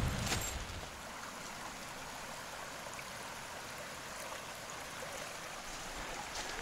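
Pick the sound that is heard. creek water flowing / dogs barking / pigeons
creek water flowing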